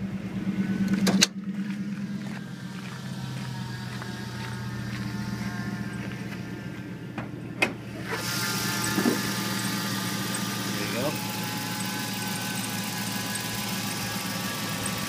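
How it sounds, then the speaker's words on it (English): A 5.3 liter truck engine heard from under the hood, cranking over with a sharp start and then settling into a steady, smooth idle with a low continuous hum. "Now I'm going to start the truck. Let you listen to it under the hood."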